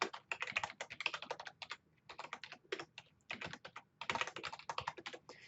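Quick, steady typing on a computer keyboard while login credentials are entered, close crisp key clicks in rapid runs with brief pauses, fairly quiet and without talk.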